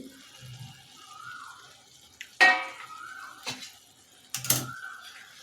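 A lid comes off a pan of misal masala with a sharp metallic clank, followed by a few more clinks of utensils against the pan amid faint kitchen hiss.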